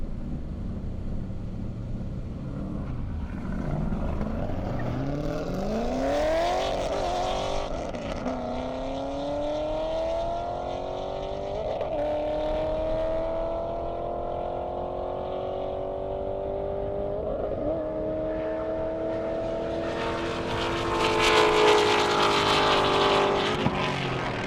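Corvette and Mustang cars racing down an airstrip, a loud engine climbing through gears with rising whine and repeated upshift dips, building from a distance and then roaring closer near the end.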